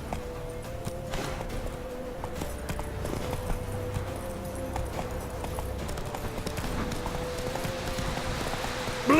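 A horse gallops in The Witcher 3, a steady rapid clip-clop of hooves running throughout at a constant pace, with a faint low ambient rumble underneath.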